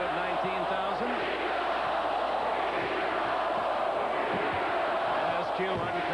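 A crowd of 19,000 in a basketball arena chants "Beat the Bulls" during Game 7 of the 1993 Western Conference Finals, SuperSonics at Suns. The rhythmic chant rolls on steadily over a constant roar of arena noise.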